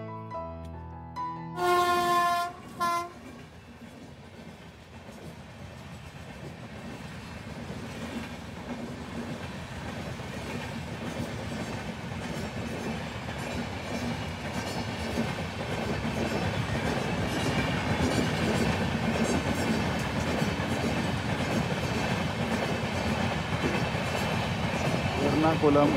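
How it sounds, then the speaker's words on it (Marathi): The Ernakulam–Nizamuddin train passes a level crossing, a brief horn blast at the start followed by a long, steady rolling clatter of wheels on rails that grows gradually louder over the whole stretch. "एर्नाकुलम निजामुद्दीन ट्रेन होती ती आता गेलेली आहे."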